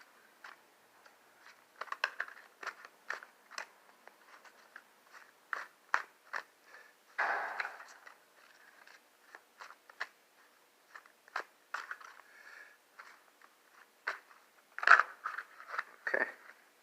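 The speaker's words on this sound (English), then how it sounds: "I'm actually going to shuffle the cards just to see what we come up with" Tarot cards being shuffled by hand, a quick run of light papery riffles and taps, close and quiet, with a brief louder flutter near the middle and another toward the end.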